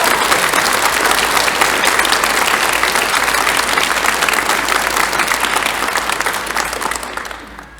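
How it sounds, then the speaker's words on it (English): Dense, loud applause fills a school spring concert hall at Chesterton Academy of the Sacred Heart, a continuous wash of many clapping hands that holds steady and then fades near the end. "Just another round of applause for all of us."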